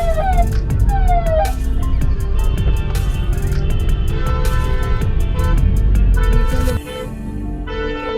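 An ambulance siren wails loudly over heavy highway traffic noise and rumbling engines on the road between Mumbai and Delhi, then the siren drops away near the end, leaving the road din.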